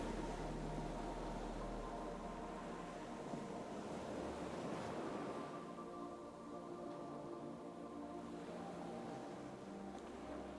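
Ocean waves, a steady broad wash of surf with gentle swells, soft and continuous throughout with no voices.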